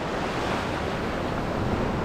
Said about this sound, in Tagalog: Halos wala ka na makikita ng baksak ng malaking alon, pero ngayon nag-umpisa na naman.